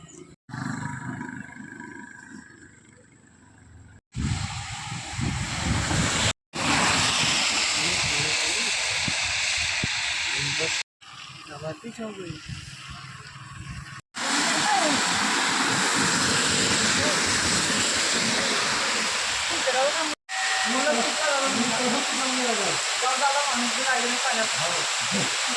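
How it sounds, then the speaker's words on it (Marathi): Heavy rain pours down during a trip along a road, a dense steady roar of falling water that fills the clip, broken by a few abrupt cuts. "आणि पाऊस चालू झाला रस्त्यातच"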